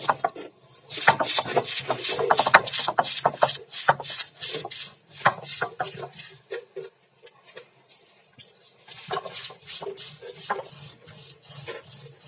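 Chana dal chutney being ground by hand on an ammi stone, with tamarind, curry leaves, salt and coconut; repeated scraping and knocking strokes of stone on stone, close and uneven, pausing briefly midway.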